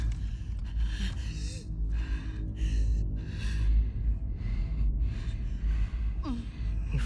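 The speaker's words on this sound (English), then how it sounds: "Your breathing's worse." A character in The Last of Us Part II breathing heavily and laboriously, a series of loud, close, rasping gasps and breaths in an uneven rhythm, with low rumbling ambience beneath.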